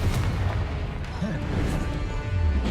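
A Confringo blasting spell explodes in the Hogwarts Legacy video game: dense, loud, continuous booming rumble with crashing bursts, packed with heavy low-end impact, and a voice speaks over it.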